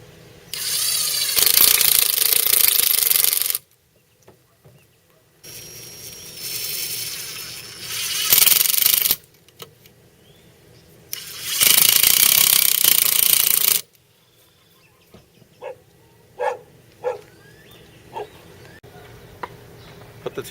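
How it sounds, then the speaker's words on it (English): A power drill drives screws into the corners of main roof rafters at a center ring, three loud sustained whirring bursts separated by pauses, followed by scattered short clicks and light handling knocks. "If you want to, go ahead and put some screws in here now."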